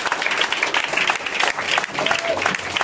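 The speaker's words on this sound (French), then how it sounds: "Est-ce qu'on peut acclamer Jésus?" Church congregation applauding to acclaim Jesus, a dense, lively burst of many hands clapping continuously, with voices and cheers mixed in under the applause.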